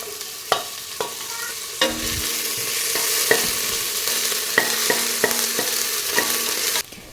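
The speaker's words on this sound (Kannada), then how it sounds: "ಎಣ್ಣೆ ಬಿಸಿ ಆಗ್ತಿದ್ದ ಹಾಗೆ ಈರುಳ್ಳಿಯನ್ನು ಹಾಕ್ತಾಯಿದ್ದೇನೆ" Onions hit hot coconut oil in a pan for a jackfruit-seed pulao, giving a steady close sizzle of frying, broken by several sharp scrapes and taps from a stirring spoon.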